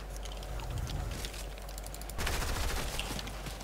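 Dense automatic gunfire from a video-game firefight, sustained bursts that grow louder and more intense about halfway through, continuous with no talk over them.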